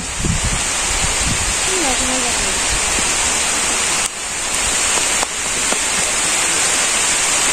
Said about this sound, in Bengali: বৃষ্টি নেমে পড়ছে জোরে।